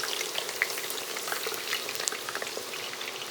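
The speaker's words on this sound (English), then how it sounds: "Watch that deep fry. Give them a good little stir." Homemade potato chips deep fry in a pot of oil, a dense, crackling sizzle with scattered pops and faint scraping as they are stirred, close by and without speech.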